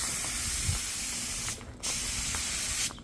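Spray gun laying a light clear coat onto a carbon fiber car hood, a loud close hissing spray in long bursts that cut off briefly twice, no talking.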